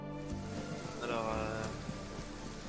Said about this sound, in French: Là, sous la pluie battante, à l'abri de cette vieille carriole providentielle